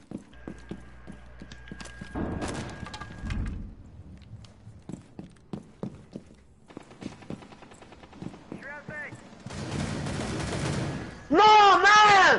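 Gunfire in the Rainbow Six Siege video game, with sharp shots scattered among footsteps and other game noise, then a dense burst of rapid fire near the end. Voices talk over parts of the clip.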